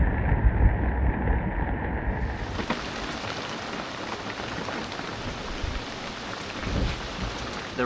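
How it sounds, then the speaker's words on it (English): Heavy rain drums steadily on a sailboat at sea during a Pacific crossing, with a low thunder rumble early on and a dense, continuous hiss of downpour throughout. "Some more thunder."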